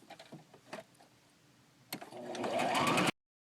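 A sewing machine starts up close by and zigzag-stitches a vintage-style peek-a-boo baby bib, after a few soft handling taps, running steadily louder for about a second before it stops abruptly.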